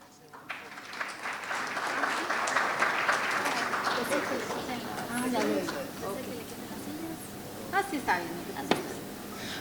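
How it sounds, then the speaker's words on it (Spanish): Audience applause welcoming a speaker at an agricultural talk on Moko disease control in banana and plantain crops, clapping swelling quickly, holding steady, then thinning out before a voice begins speaking. "Así que le damos la bienvenida con un aplauso."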